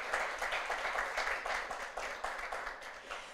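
An audience at a book launch gives a round of applause, a steady patter of many hands clapping at moderate, fairly distant level with no voices over it.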